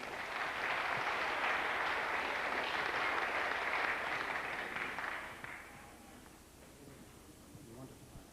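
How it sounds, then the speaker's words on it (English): An audience applauds a singer at a memorial concert, steady dense clapping for about five seconds before fading into quiet room noise. "Give Tom a big round of applause now."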